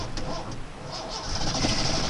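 A Ford truck engine cranks and catches, a rough, loud rumbling churn building steadily over a couple of seconds.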